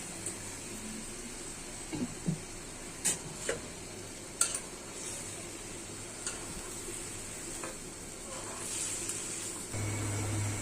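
Okra frying in a spice masala of turmeric, chili, salt and onion paste, a steady low sizzle broken by intermittent clinks and scrapes of the stirring utensil, growing louder near the end.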